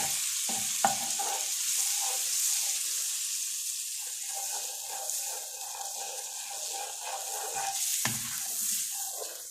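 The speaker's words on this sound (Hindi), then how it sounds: "ये बटर मेल्ट होगा" Butter melts and sizzles in a pan while making chicken Alfredo fettuccine, a steady close frying hiss with a few soft clinks and stirring noises.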